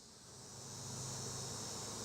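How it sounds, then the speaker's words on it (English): Honey bees swarm on the ground near feeder pails at an apiary hive, making a faint, steady buzzing hiss that swells slightly over a couple of seconds. "Got a lot of bees on the ground."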